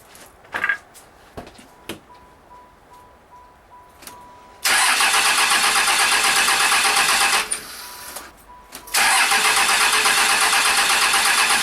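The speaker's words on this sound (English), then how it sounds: "I'm going to crank this a little bit so I see some fuel coming out." A 1995 Dodge Ram's Cummins 6BT 12-valve diesel with newly replaced fuel injectors cranking loudly in two long bursts of steady, fast starter chugging, close up. A quiet stretch of small clicks and taps comes before the cranking.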